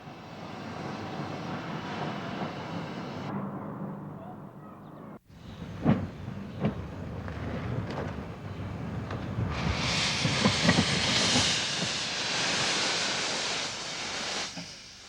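Barclay-built steam locomotive Llantarnam Abbey, in clean condition, working: a steady heavy mechanical rumble that breaks off briefly partway through, then returns with sharp chuffing bursts and a rising broad hiss toward the end, with no talk.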